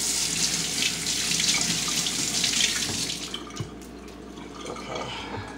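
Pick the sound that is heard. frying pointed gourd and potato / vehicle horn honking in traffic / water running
water running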